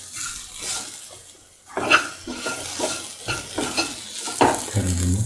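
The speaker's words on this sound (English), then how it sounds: "Salt and mix thoroughly." Breadfruit stew being stirred in a pot, with repeated scraping and sloshing strokes against the pot at a steady, close rhythm and a faint sizzle underneath.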